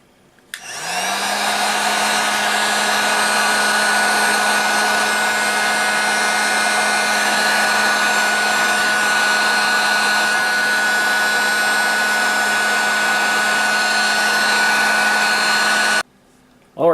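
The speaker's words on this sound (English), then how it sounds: "This is the first figure I ever put a heat gun to" A heat gun warming plastic toy figure parts blows a loud, steady hum and rushing airflow close by for about fifteen seconds, then cuts off abruptly.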